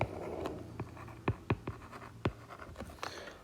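Pen writing out a calculus equation on paper or a board during a maths lesson, a run of faint scratchy strokes with several sharper taps, close and quiet, no talking.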